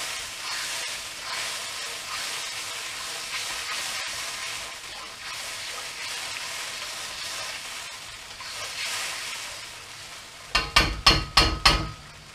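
Cornflour thickening mix for a ginger and spring onion fish dish boils in a pan, giving a steady sizzling, bubbling hiss without talk, then ending in a few sharp clattering knocks near the close.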